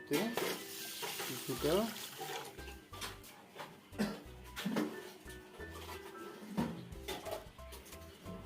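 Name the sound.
rice being mixed by hand in water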